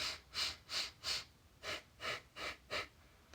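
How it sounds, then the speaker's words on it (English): Sat Nam breathing, rhythmic four-count inhales and exhales through the nose, eight soft airy breaths in a steady even pulse, close and alone. "the Sata Nama, which is the 4 in and 4 out through the nose"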